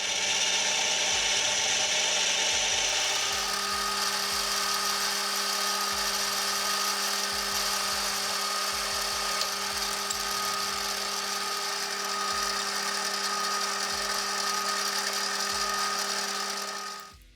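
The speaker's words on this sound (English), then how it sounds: "I'll start off with a little 1/2 inch cold rolled steel in the collar chuck, and get it faced and drilled for a 5mm reamer." A lathe facing and drilling 1/2 inch cold rolled steel held in a collet chuck makes a steady, close mechanical whir with a constant tone and scraping cutting noise throughout, then stops abruptly at the end.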